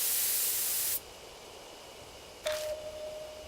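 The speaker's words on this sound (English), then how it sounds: "I take careful aim and spray the drug" A handheld pesticide sprayer in the horror game Death Mark lets out a loud, steady hiss of spray for about a second, then cuts off; a sharp electronic tone with a burst of noise follows after a pause.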